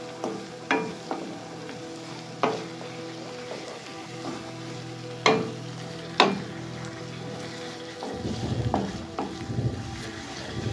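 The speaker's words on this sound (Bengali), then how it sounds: "এর মধ্যে আমরা কুচানো পেঁয়াজ, আদা রসুন বাটা দিয়ে ভালো করে আমরা এটিকে নাড়িয়ে নেব।" Chopped onion and ginger-garlic paste sizzle in oil in a wok, a steady frying hiss punctuated by several sharp scraping stirs and clanks, with a rougher, louder stretch of stirring near the end.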